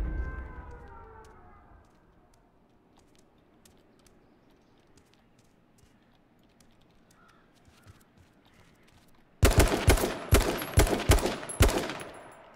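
Rapid bursts of gunfire in the battle royale game H1Z1 King of the Kill break out abruptly near the end, loud and close, after a long quiet stretch with faint clicks and a fading rumble at the start.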